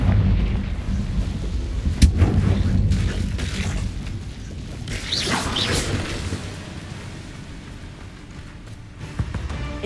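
Blasting-spell explosions in the Hogwarts Legacy game, with a sharp loud burst early, then a rumbling blast with a whooshing sweep midway, over a constant low roar of game noise.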